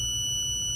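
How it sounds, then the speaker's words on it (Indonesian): Burglar alarm buzzer on a homemade laser-tripwire anti-theft circuit, sounding a steady high-pitched electronic tone alone, continuous and unbroken, moderately loud with a faint low hum beneath. "alarm anti maling bekerja dengan membunyikan buzzer sebagai outputnya"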